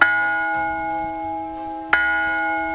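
Church bells ring in a small hill village in northern Sicily: two loud strikes, the second about two seconds after the first, each leaving a long, sustained, humming tone that slowly fades, with no voices.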